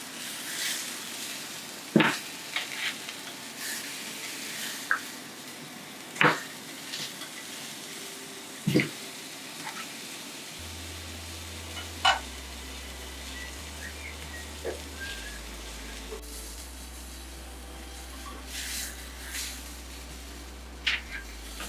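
Hamburger patties cooking in a pan, a steady low sizzle with occasional clinks and scrapes of a utensil against the pan, fairly quiet and close.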